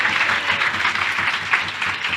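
A church congregation applauds during a sermon, a dense, even wash of clapping from many hands that holds steady throughout.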